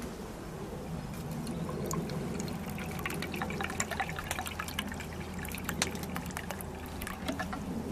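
Water pours steadily into a pot of rice, splashing and trickling in a continuous close-up stream with small drips.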